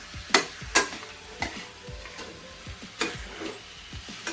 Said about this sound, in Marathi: सर्व चिकन आणि मसाला एकत्र करून घ्यायचा आहे